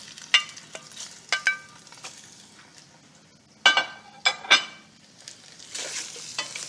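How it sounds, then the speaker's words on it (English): Cleaned fish bones cut into small pieces are slid into a stock pot, giving scattered clinks, clatters and scraping knocks against the pot, moderately close and without talk. "These are just cleaned bones cut into small pieces. Okay, so I'll take these and slide them right in here."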